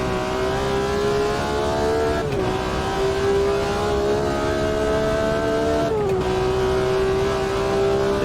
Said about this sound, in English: listening to that beautiful engine note